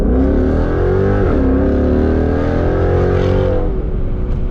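A 2017 Ford Mustang GT V8 with a Corsa Xtreme catback exhaust roars loudly under hard acceleration, the engine note climbing steadily through the gears with a deep, continuous rumble.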